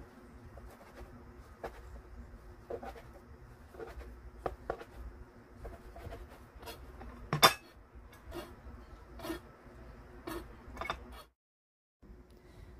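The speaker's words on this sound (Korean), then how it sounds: "계란말이를 썰어 볼게요" Knife slicing through a rolled omelette with mushrooms, likely on a cutting board: about a dozen soft, separate cuts spread irregularly over steady background noise, one sharper tap in the middle, and a short silence near the end.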